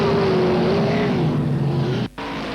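Sprint car engines race at Parramatta City Raceway during the 1990 Gold Cup, a steady roaring drone whose pitch shifts as a car sweeps by, cutting out for a moment near the end.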